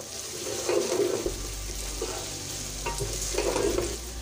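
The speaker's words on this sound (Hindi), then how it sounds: "भिंडी को अच्छी तरह भूनना है जब तक इसका लेसपन ना निकल जाए" Okra (bhindi) fries in a pan while a spoon stirs it twice, scraping and rustling over a continuous sizzle and a low steady hum, close up with no voices.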